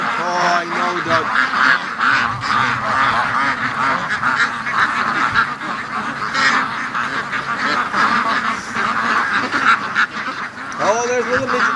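Ducks in their pen at waking time, quacking and honking busily and close by in a steady, overlapping chorus, with a person talking over them at moments.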